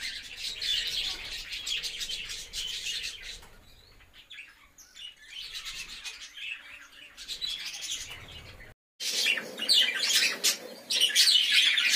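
Budgerigars chirp and twitter continuously around nest boxes in an aviary colony, a dense mix of bright close calls with brief lulls and a louder burst of chatter near the end.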